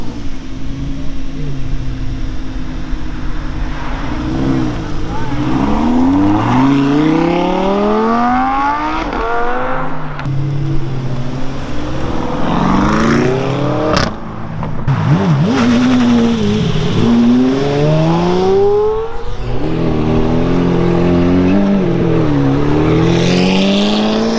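Several Lamborghini Huracan sports cars, including a Performante and Spiders, driving on the road: loud, continuous engine roar with repeated revving rises and falls, close and dominant throughout, no talk.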